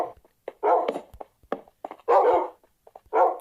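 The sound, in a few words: dogs barking and whimpering in a video game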